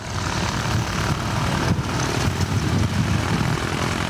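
A replica radial aircraft engine runs steadily close by, a loud continuous propeller drone with a throbbing low rumble and no break across the few seconds.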